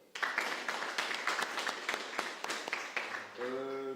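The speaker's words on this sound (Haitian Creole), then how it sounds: "Applaudissements." An audience applauds at a televised competition show's ranking announcement, steady clapping filling the space for several seconds before fading into a short musical tone at the end.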